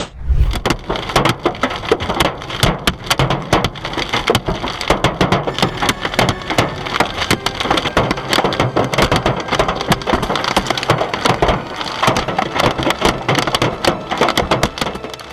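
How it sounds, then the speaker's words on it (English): An intense hailstorm pounds surfaces with a dense, continuous clatter of loud, sharp impacts that stay relentless and close throughout. "Have you ever witnessed a hailstorm this intense in real life?"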